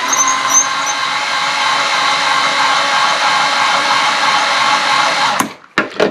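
A case trimmer whirs steadily and loudly close by as brass .45 Schofield cartridge cases are trimmed. The hum then stops abruptly and is followed by a few short clicks and knocks of handling.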